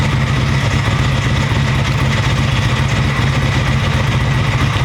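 A motorcycle engine idling steadily after an ignition box swap, a loud, continuous low rumble close by with no other sounds.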